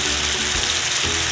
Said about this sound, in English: You can hear the sizzling taking place as you're adding the liquid to the caramel.